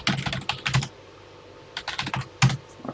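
Quick clattering bursts of typing on a TI-99/4A home computer keyboard, pausing for a second before another rapid run of keystrokes, close and clear.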